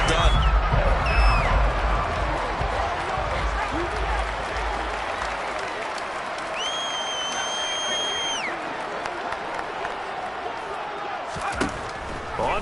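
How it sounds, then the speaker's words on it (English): Stadium crowd applause and cheering in the American football video game Madden, a steady broad roar filling the whole stretch at moderate loudness, with a few whistle-like tones and brief thumps on top. "How about some applause for the defense there?"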